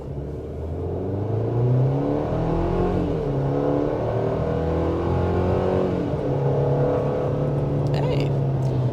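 A 2023 Chevy Colorado WT pickup's turbo four-cylinder engine revs up under acceleration, the pitch rising steadily as it pulls away, heard from inside the cab with a few light rattles.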